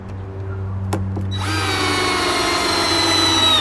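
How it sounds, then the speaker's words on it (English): A power drill whirs up and runs steadily at high speed, close by and loud, driving into wood. "then drill this in here"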